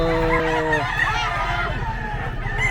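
A 13-month-old Kelso gamecock rooster crows loudly and close at a gamefowl market, one strong harmonic crow followed by clucking and background market noise with faint voices.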